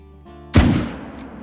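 A single loud rifle shot fired at a caribou in theHunter: Call of the Wild, a sharp booming crack after a moment of quiet, then a fading echo tail.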